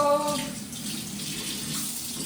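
Tap water runs steadily into a sink while fish are washed, a continuous splashing hiss that stays even and close throughout with no talk.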